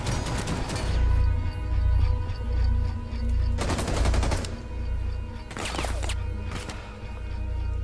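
Loud bursts of automatic gunfire in the tactical shooter Rainbow Six Siege come in three separate volleys, with a steady low rumble running underneath.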